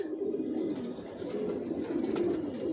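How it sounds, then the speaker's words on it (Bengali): Adult Johnson-line long-distance racing pigeons, leg-tagged and vaccinated, coo together in a dense, continuous low murmur that fills the whole stretch at moderate loudness, with no talking. "ভিউয়ার্স দেখতে পাচ্ছেন এখানে সব অ্যাডাল কবুতর"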